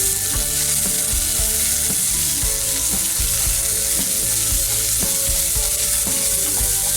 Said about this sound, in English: Let's get a bit of oil in the pan, and on top of that we're going to throw half an onion